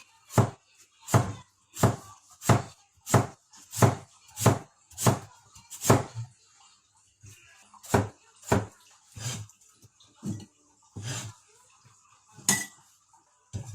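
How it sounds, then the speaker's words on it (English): A peeled potato is cut into pieces on a board, about twenty sharp, evenly spaced knife chops landing close by, steady at first and then more irregular and softer, with no talking. "you need to get rid of the skin of potato, then cut it in pieces"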